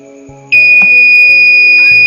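A buzzer on a microcontroller workshop board switches on partway through and holds a loud, steady electronic tone to the end, over faint background hum.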